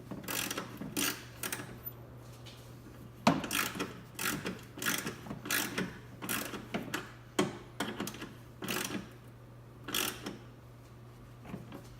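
Bolts being tightened with a ratchet on a K&N intake kit in a Toyota FJ engine bay, a series of quick clicking ratchet bursts in irregular rhythm, close and moderately quiet, with a low steady hum beneath.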